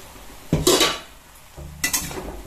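Bottle gourd and spices stirred and fried in a pan for a pumpkin-and-peanut curry: two brief bursts of spatula clattering and scraping against the metal, separated by a quieter stretch of faint sizzling.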